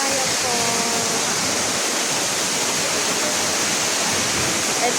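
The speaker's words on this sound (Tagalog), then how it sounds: "It's a wonderful falls. Mandaya Falls." Mandayao (Mandaya) Falls in an eco-adventure park, a loud, constant broadband rush of falling water heard close up, with a voice faintly present beneath the roar.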